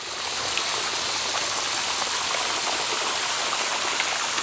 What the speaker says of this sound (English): the water's working its way, spraying real hard